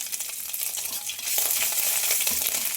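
Ginger crackling in hot oil with dry red chillies, black cumin and bay leaf, a dense bright sizzle that swells louder partway through, with light stirring scrapes.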